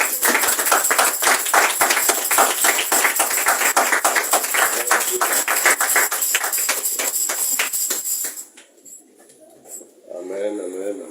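Congregation applause at a church service, dense steady clapping from many hands filling the room for about eight seconds before fading out, followed by a voice beginning to speak.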